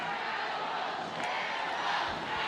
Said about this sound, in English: And now the Alabama crowd has started to waken up again.